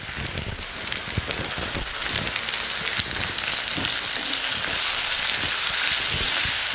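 Tomato pieces drop into a pan of frying onions for a black chickpea gravy, and a loud, steady sizzle crackles close by without interruption.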